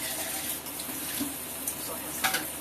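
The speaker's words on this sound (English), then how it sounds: "So I'm going to pour in the pinto beans. Rinse those off a little." Tap water runs steadily over canned pinto beans in a kitchen sink as they are rinsed, a broad continuous splashing hiss with small spatters, under a little nearby talking.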